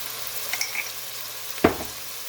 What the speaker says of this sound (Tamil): அப்போ ஒனியன் நல்லா வதங்கு